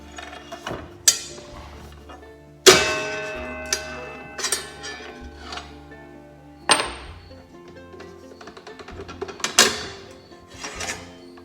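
Nut and old blade being removed from a miter saw, a series of sharp metallic clicks, ticks and clunks at irregular intervals, close and isolated with quiet gaps between.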